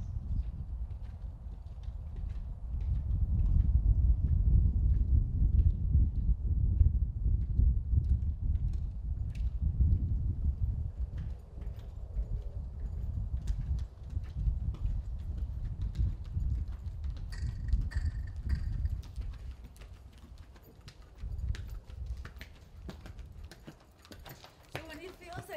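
A horse cantering during a riding lesson, with muffled rhythmic hoofbeats on soft footing running through the whole stretch under an instructor's ongoing talk, loud in the low end and fading slightly toward the end.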